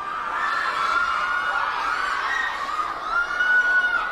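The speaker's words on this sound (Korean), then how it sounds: "역시 환호성의 깊이도 남다릅니다" An awards-ceremony crowd greets actress Kim Nam Joo at the Baeksang Arts Awards with continuous high-pitched cheering and screaming, steady and dense throughout, some shrill voices rising above the roar.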